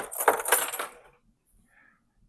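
Wallet, keys and a phone set down together in a brief cluster of clinks and light jangling up close, fading to near silence after about a second.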